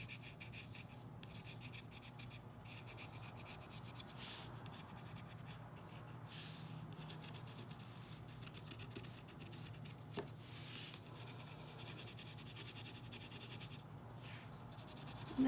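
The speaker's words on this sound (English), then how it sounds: "let me just show you one more with the color pencil" Colored pencil rubs over paper in a steady, quiet scratchy hiss, shading with continuous back-and-forth strokes and a few short pauses, close and faint with no talking.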